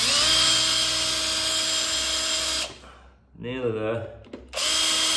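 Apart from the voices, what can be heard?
power drill boring a 6mm hole through a mortice drill template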